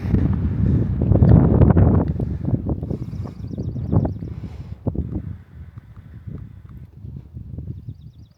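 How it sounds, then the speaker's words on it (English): Gusty wind sweeps across the open summit of Black Balsam Knob in the Blue Ridge Mountains, buffeting loudly at first and then easing into softer, intermittent gusts. "A little windy."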